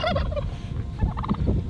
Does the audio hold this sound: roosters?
yes